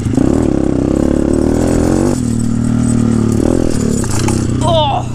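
A small pit bike engine revs hard while being ridden over jumps, a loud buzzing drone that climbs and drops with gear changes, close to the rider, with a voice exclaiming over it.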